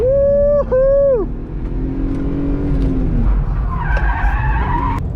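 A BMW E36 M3 drifts with tires squealing loudly in rising and sliding wails over a revving engine, then a second, fainter skid follows as the car keeps sliding.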